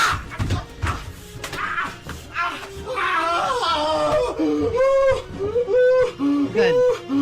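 Recorded screams and surprised wails of a person in pain play back loudly, with rising and falling cries and some laughter-like bursts mixed in, filling most of the stretch.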